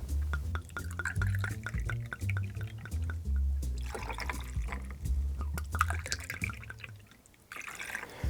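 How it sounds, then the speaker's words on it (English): Red wine pours into a glass for a kalimotxo cocktail, a close, continuous liquid gurgle with bubbly trickling that eases off near the end. "So we'll start with your 4 ounces of red wine."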